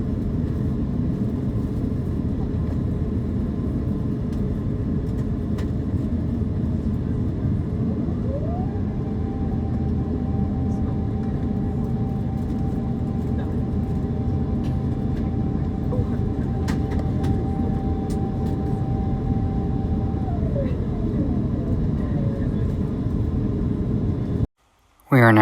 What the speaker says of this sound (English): We are now taxiing and making our way down to the runway.